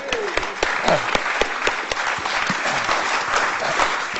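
An audience at a STEM engineering debate gives a full round of applause, steady dense clapping from a crowd throughout, fairly close and loud, with a brief voice or whistle near the start.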